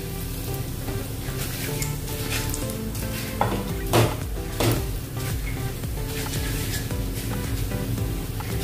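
Cumin, asafoetida and bay leaves sizzling in hot oil in a pan for besan aloo sabji, a constant crackling fry with a few clinks of a spoon against the pan partway through.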